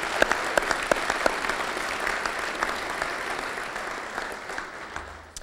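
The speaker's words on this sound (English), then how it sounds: "I think that deserves a round of applause." An audience at a chamber of commerce forum gives a round of applause for a new Speaker of the House, steady dense clapping that holds for several seconds before tapering off at the end.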